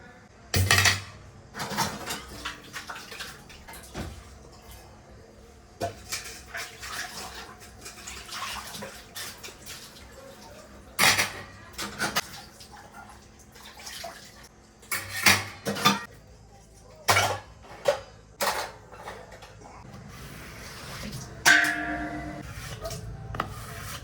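Dishes, pots and pans being washed: repeated clatters and clinks of metal and crockery over running water, close by, with no voices.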